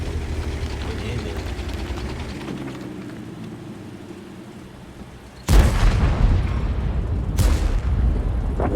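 The US heavy tank AE Phase I fires its cannon in a tank video game: two loud, sharp booming shots ring out after a stretch of low engine rumble, with someone talking.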